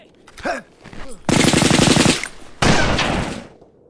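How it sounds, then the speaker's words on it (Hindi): Automatic gunfire in a firefight between soldiers, with two long loud bursts of rapid machine-gun shots and a few single echoing shots before them, close by and with no talk over it. "ये तो एक दूसरे पर गोली चला रहे हैं।"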